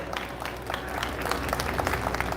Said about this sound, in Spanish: Fuertes los aplausos para estos maestros, por favor.